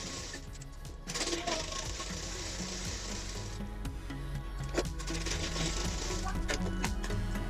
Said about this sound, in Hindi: इसी तरह से दूसरे बाजू पर भी सिलाई कर देनी है।